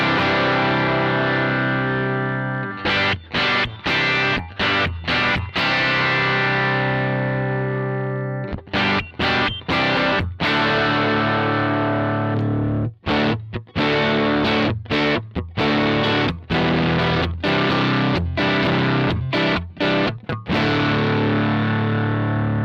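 Marshall JTM 1 50th Anniversary guitar amp head with its tone control turned down to a darker setting, playing driven electric guitar with sustained distorted chords and quick choppy strummed bursts, loud and close, with no voices.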